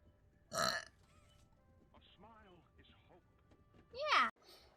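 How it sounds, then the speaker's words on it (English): A voice lets out two loud burps, the first short and the second longer and throaty, with soft speech between them in a quiet room. "That was a good burp."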